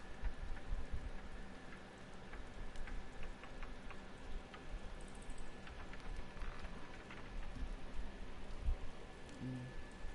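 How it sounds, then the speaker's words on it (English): Rain falls steadily in a constant, even hiss with scattered ticking drops on a surface, faint and unbroken throughout. "Since it started raining."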